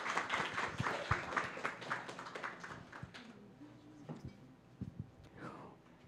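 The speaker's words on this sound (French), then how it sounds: "Applaudissons-la." An audience at a French science talk about bacteria applauds the next speaker, with dense clapping at first that thins out into scattered claps and light room noise.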